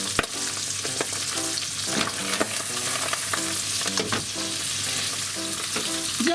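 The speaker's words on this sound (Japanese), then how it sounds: "皮目だけ2分ぐらい焼きました" Salmon skin searing in a hot pan: a dense, steady sizzle and crackle, close and continuous, with faint rhythmic tapping underneath.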